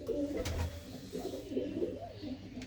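Pigeons in a coop coo steadily in low, rolling, overlapping calls close by, with brief rustles and no talk.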